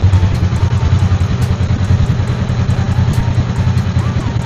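A Honda Rebel motorcycle idles close by on its stock exhaust pipe, a loud, steady low engine rumble with a fast, even pulsing throb and no talking.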